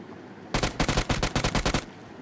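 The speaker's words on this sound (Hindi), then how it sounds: "अब यहाँ पे मैं उसको फायर देता हूँ, उसको थोड़ा डैमेज देता हूँ" A rapid burst of automatic gunfire in PUBG Mobile, about a dozen loud sharp shots in quick rhythm lasting just over a second, alone and close.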